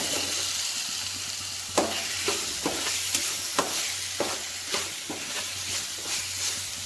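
Potato pieces fry and get stirred into a tomato masala for aloo kurma: a constant close sizzle with a series of distinct spoon scrapes and knocks against the pan at irregular intervals.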